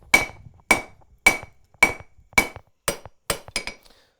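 A blacksmith hammers hot steel to draw a taper, with eight sharp, ringing hammer blows on the anvil at an even rhythm, close and loud, the last two coming quicker.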